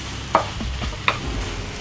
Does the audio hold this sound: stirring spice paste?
yes